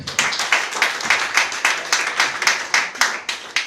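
Church congregation applauding in rhythmic unison, about three claps per second, loud, close and steady with no talking.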